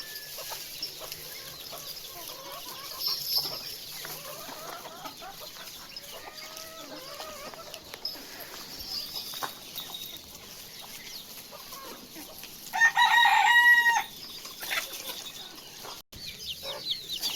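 Chickens cluck and chatter on a farm, with faint scattered calls throughout and one louder, sustained call about two-thirds through that could be a rooster, all over a quiet outdoor background.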